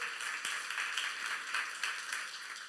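A church youth-service congregation claps during a Korean sermon, with quiet, fairly rhythmic claps repeating through the short stretch and heard at a distance against room tone.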